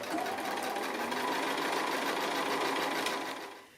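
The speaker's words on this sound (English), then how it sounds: "I've gone ahead and finished sewing the full length" A sewing machine runs steadily stitching fabric for a small drawstring bag made from a fat quarter, a continuous close whirring hum for several seconds that tapers off at the end, with no talk.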